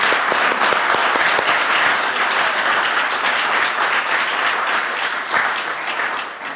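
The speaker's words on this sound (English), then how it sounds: "we're going to applause them and transition" An audience at the Governor's Awards in the Arts ceremony breaks into sustained applause, a dense, even wash of clapping that holds steady and then slowly tapers toward the end.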